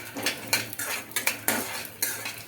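Peanuts fry in a pan for chutney as a utensil stirs them, making repeated scraping, clinking strokes against the metal at a steady rhythm, close and fairly loud.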